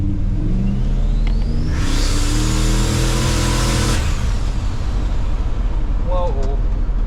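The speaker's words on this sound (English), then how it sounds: "this is way more fun to drive with so much more throttle response and so much better turbo response" A turbocharged street car engine revs up loudly and accelerates, its pitch climbing through a gear before easing off, heard close and continuous with faint turbo whistle and some background chatter.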